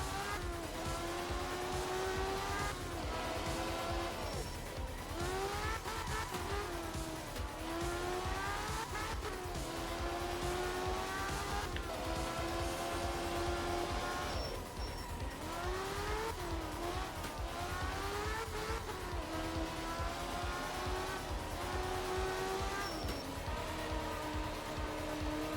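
A truck driven in a video game, its engine revving up and down in repeated surges with tire squeals and skids mixed in, loud and continuous throughout.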